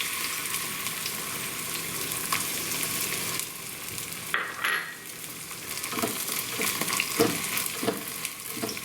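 Raw gond, an edible gum, fries in hot oil with a steady, fairly quiet sizzle, broken by a few soft clinks and stirring scrapes.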